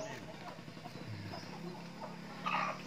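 Free-range village chickens cluck on a poultry farm, a busy flock sounding close amid general farmyard noise, with a louder squawk near the end.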